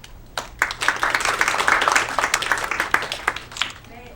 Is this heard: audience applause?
yes